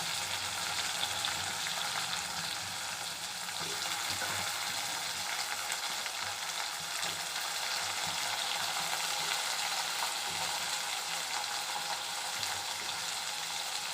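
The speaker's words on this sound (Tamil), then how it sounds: "நல்லா வதக்கிக்கலாம்." Tomato sautéing in a pan for Tamil chicken kulambu gives a steady, close, continuous sizzle with faint stirring scrapes, running unbroken for the whole stretch with no voices.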